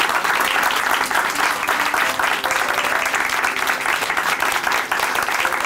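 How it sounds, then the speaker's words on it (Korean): A church congregation at Chuncheon Hanmaum Church claps in warm, sustained applause after a testimony, a dense and steady clatter of many hands filling the room for several seconds. "다시 한번 큰 박수 보내드릴게요."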